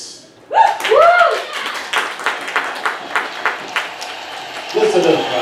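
Live show audience clapping in steady rhythmic beats after a voice calls out over a loud hum, then the claps swell into fuller applause near the end.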